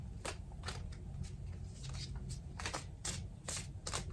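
Repeated crisp riffling and flicking of tarot cards being shuffled, irregular bursts close by, with no talking.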